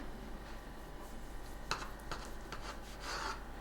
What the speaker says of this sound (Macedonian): И сега вака ќе си го сечиме.